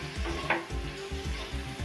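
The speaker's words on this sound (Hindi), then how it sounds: "अब इन सब चीज़ों को डाल के अच्छे से इसे मिक्स कर लेते" An egg roll masala mixture is stirred in a hot pan with a close, continuous sizzle and rhythmic scraping strokes, with no voices.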